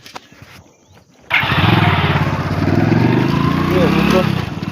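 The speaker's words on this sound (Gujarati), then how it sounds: "અને હવે બાઇક ચાલુ કરીને નીકળશું દૂધ ભરાવા માટે" A motorbike engine starts abruptly after a quiet moment, then runs at a steady, loud, close rumble with a slight high buzz, before a ride out to deliver milk.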